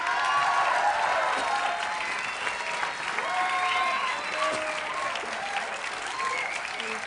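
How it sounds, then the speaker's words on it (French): An audience breaks into warm applause for a performer being introduced, a steady clatter of many hands lasting several seconds, with people talking and calling out over it. "On peut l'applaudir, je crois."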